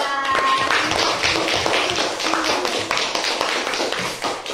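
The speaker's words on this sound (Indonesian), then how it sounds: "Tepuk tangan untuk kelompok 2." A classroom group of students claps for a presenting team after a cultural heritage presentation, dense overlapping hand claps filling the room steadily and fairly loud throughout, with no talking.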